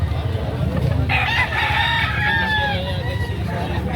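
A young rooster, a stag about four to five months old at a poultry market in Lipa, Batangas, crows once, a rising then falling call lasting a few seconds over a steady background murmur of a crowded place.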